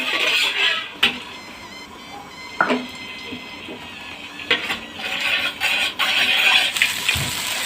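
Garlic-ginger paste fries gently in ghee in a pan. It makes a steady soft sizzle, with a spoon now and then clanking sharply against the pot.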